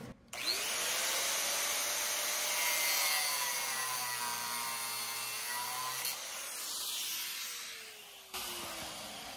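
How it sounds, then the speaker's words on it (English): A cutoff wheel grinds through metal on a Ford Crown Victoria wheel, a loud, continuous high whine that rises and falls slightly in pitch as the cut goes on, then stops. "Now, I'll take my cutoff wheel."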